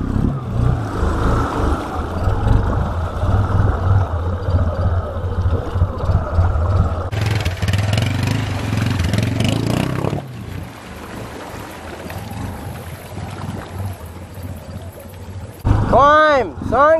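A Honda Fourtrax 300 ATV engine runs steadily while the machine wades through water, a loud continuous drone with sloshing and splashing, shifting character partway through, and a voice speaks over it.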